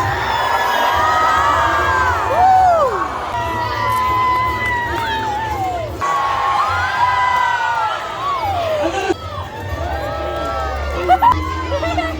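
At a jousting show at Kryal Castle near Melbourne, spectators cheer loudly for the knights. Excited shouts and whoops, including children's voices, rise and fall in a continuous close-up roar for about twelve seconds.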